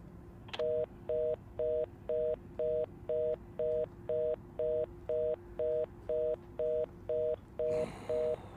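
A telephone line gives an evenly paced series of about fourteen short electronic beeps after a call cuts off, each clear and identical, ending in a brief rustle.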